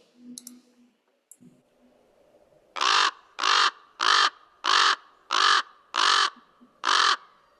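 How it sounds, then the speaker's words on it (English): Raven calls: after a few faint chirps and clicks, seven loud, hoarse croaking caws repeat at a steady, even rhythm, each a short harsh burst with clear gaps between, with no voices. "So we're gonna listen to the raven first."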